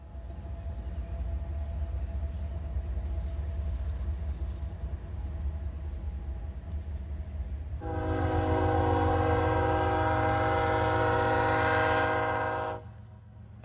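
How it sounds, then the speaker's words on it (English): An eastbound BNSF coal train rumbles steadily in the distance in Kansas City, then a loud, sustained train horn blows for several seconds over the continuing rumble. "Here's a BNSF train that was headed east with a coal train."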